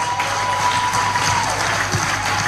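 A church congregation applauds and acclaims during a sermon, a dense, steady wash of clapping from many hands with faint crowd murmur mixed in.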